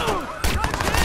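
Gunfire in the video game Watch Dogs: a quick burst of loud, close shots crackling over dense game sound within about a second.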